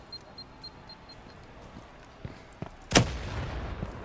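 A grenade blast from the first-person shooter Firewall Zero Hour, one sharp, loud burst about midway that decays into a rumbling tail, after a few fainter distant pops against a quiet background.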